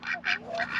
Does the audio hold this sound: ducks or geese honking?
yes